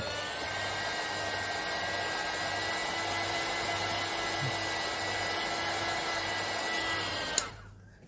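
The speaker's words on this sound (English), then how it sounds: "Someone asked me why am I not filming when I'm using a heat tool" A heat tool blows hot air over a handmade dragon-eye craft pendant, a steady close whooshing hum with a faint electric whine that stops abruptly near the end.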